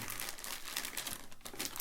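Crinkling of a small paper sheet from a Star Wars Imperial Assault board game bag, a close, quiet, continuous rustle lasting under two seconds with no speech.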